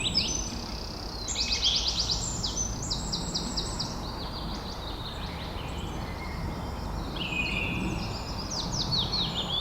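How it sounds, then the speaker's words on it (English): Several birds sing outdoors in a spring setting, bright trilling and chirping phrases repeating across the scene over a soft, steady background hush. "I listen to the birds."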